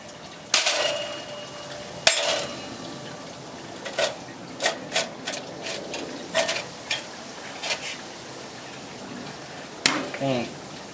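Metal knife blades clatter and clink as they are placed into a preheated toaster oven for heat treating, a few sharp separate knocks spread over several seconds with quieter handling noise between them.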